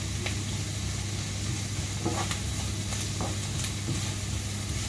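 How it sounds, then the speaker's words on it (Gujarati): Noodles stir-fried in a pan give a steady sizzle, with scattered scraping and clinking of the utensil against the metal over a low background hum. "આમ પેન બી ચલાવો અને સ્ટર કરતાં કરતાં સોતે કરો તમે"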